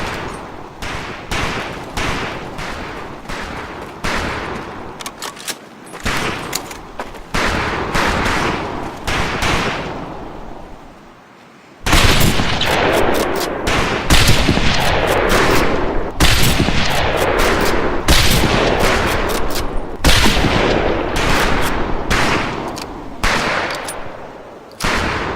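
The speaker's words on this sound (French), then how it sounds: "Conlin, Gaines, on a 2 fusils à lunettes aujourd'hui. Allez, montrez-moi ce que vous venez sortir de loin" Scoped rifles fire at a training camp in the video game Medal of Honor: Pacific Assault, a loud, dense barrage of sharp, overlapping gunshots, broken by a short lull before the volley resumes even harder.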